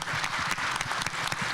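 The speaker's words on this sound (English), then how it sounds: "let's keep that applause going" Brief burst of audience applause for panelists at the Baltimore Together Summit, a hall of hands clapping in a dense, slightly uneven patter.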